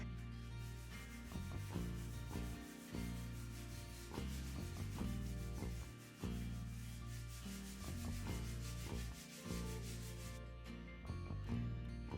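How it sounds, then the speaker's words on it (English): A sanding scouring pad from a bathtub refinishing prep kit scrubs steadily over a bathtub's surface during a bathroom renovation, a continuous close rubbing rasp with brief pauses and no talking. "it says I'm supposed to scour the whole tub with this"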